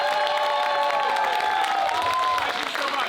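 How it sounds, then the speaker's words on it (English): At the end of a spring mainstage performance of Julius Caesar, a theatre audience applauds the cast with loud, sustained clapping and some cheering and whoops throughout. "let's give the cast another round of applause"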